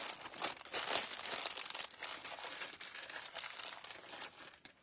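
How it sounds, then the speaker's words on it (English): Thin plastic Ziploc bag crinkling and rustling up close, a continuous crackly handling sound with bursts of louder crunching, without any voices. "I just put it in a Ziploc bag"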